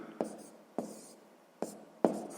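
Handwriting on paper while solving a sixth-grade maths exercise, heard as four short scratchy pen strokes that each start sharply and fade, alone and close by.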